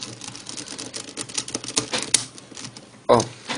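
A ShengShou Megaminx puzzle gets pieced together by hand, giving a run of quick, light plastic clicks and snaps, close and fairly faint, with one sharper knock near the end.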